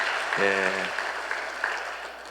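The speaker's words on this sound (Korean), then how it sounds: "한번 축하하는 박수만 고맙겠습니다." Applause from a church congregation during a Sunday service, a fairly soft patter of clapping behind a brief voice with a sung or hummed tone near the start.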